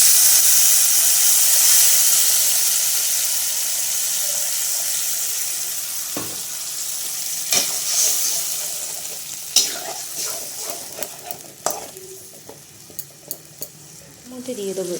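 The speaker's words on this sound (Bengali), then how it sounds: "আদাটা একটু নাড়াচাড়া করবো।" Ginger sizzling and hissing steadily in a hot pan, with a utensil scraping and knocking as it is stirred, the clatter growing more frequent toward the end.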